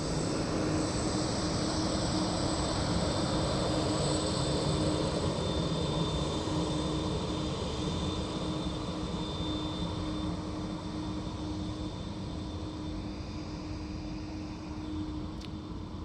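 Steady, loud aircraft engine roar at Dublin Airport, a broad continuous drone with a faint tonal whine that eases slightly toward the end, heard alone without talk.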